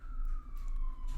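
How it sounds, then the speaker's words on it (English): Emergency vehicle siren wailing in the distance behind a podcast recording, one steady slowly falling tone over low background rumble, no speech. "Why is there a siren in the background?"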